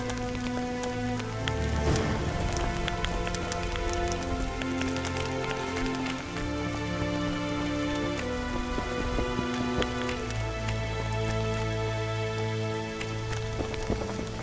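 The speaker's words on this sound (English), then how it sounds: "Who the hell commanded the heavens to rain?" Rain falls steadily in The Witcher 2 game world, a continuous hiss of drops on surfaces lasting throughout, with sustained musical score tones layered over it and no talking.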